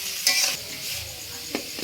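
Ginger and potato stir-fried in a pan for Kolkata-style ghugni: a steady soft sizzle broken by a couple of short scraping strokes of a spatula, close and moderately quiet.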